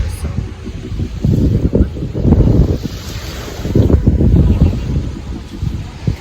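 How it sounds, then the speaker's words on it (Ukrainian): Strong gusty wind buffets the microphone in loud low rumbling bursts on a beach in Mallorca, Spain, with a faint wash of surf beneath. "можливо, вам чути, то вітряно"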